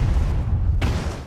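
A deep, rumbling blast of a warehouse exploding in a film, heavy low roar throughout with a sharper burst of debris noise near the end before it cuts off.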